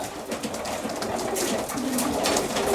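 Racing pigeons coo softly and repeatedly amid a busy, noisy background of fluttering and rustling, steady throughout.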